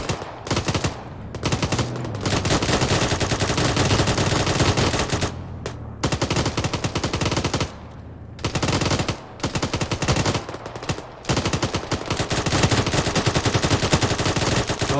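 Sustained machine gun fire in a military video game rattles loudly and continuously, broken by a few brief pauses between long bursts, close and dense.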